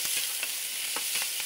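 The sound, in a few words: stirring seafood pancit canton noodles in a frying pan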